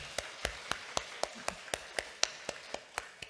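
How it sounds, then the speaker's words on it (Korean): A congregation at a Korean Won Buddhist temple claps in steady unison. About a dozen evenly spaced, faint claps fall in a regular rhythm, with no voices. "박수 한번 크게 쳐주세요."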